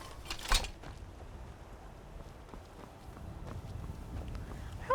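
Horse hooves clip-clop at a trot along a path in The Elder Scrolls: Skyrim. The steps are quiet and steady, with one sharp knock near the start.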